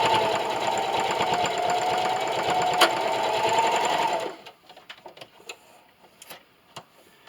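A sewing machine runs steadily at close range, backstitching the end of a seam on fabric for a washable ottoman cover, then stops abruptly and is followed by a few faint clicks and handling sounds.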